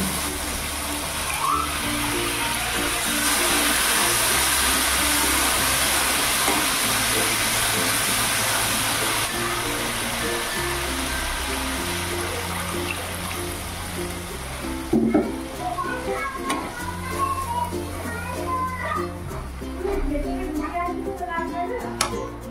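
Water poured onto fried spice paste for a Bengali curd katla fish curry, with a steady broad hiss and sizzle that settles into bubbling, under intermittent background music and clatter.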